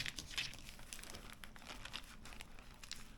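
A Hefty Ziploc plastic bag crinkles and rustles close by in an unbroken stretch of handling, with brief crisp crackles over a steady rustle.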